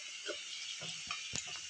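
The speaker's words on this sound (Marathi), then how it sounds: "असे मोदक छान असे फ्राय करून घेत आहे" Modak dumplings frying over a low flame in oil heated until very hot, giving a steady close hiss with a few soft pops and crackles, with no voices.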